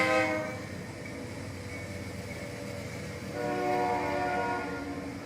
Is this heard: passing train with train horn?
yes